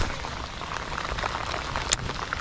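Heavy rain pours onto a lake, a dense, continuous hiss of drops with a few louder splashes close by.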